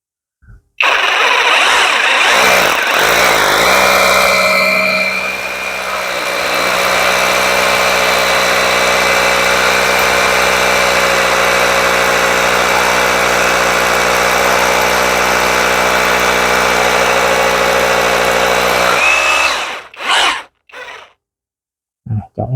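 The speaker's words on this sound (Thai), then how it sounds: "ก็ลองเจาะเสาปูนให้ดูนะครับ" A battery-powered HORY cordless rotary hammer drill bores into a concrete pillar, its loud, steady motor whine running continuously for about eighteen seconds before cutting off.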